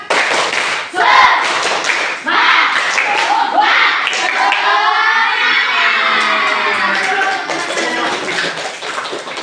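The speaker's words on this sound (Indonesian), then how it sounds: "Tepuk semangat" A group of participants at the close of an Indonesian school guidance and counseling session claps the rhythmic spirit clap, tepuk semangat, with loud, patterned claps mixed with shouts and cheering that fill the room.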